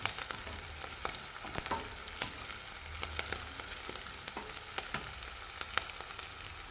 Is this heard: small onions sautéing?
yes